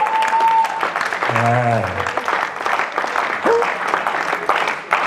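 A church congregation applauds heartily for the single people, steady claps over crowd noise while a voice calls out briefly.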